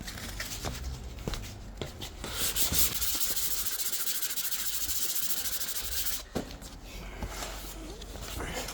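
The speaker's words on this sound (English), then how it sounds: "So the final grade I'm going to use in the sanding process is some 400 grit." Hand sanding of a car bumper repair with 400 grit sandpaper, a steady close abrasive rubbing that runs in strokes and continuous stretches, with a few knocks and pauses between passes.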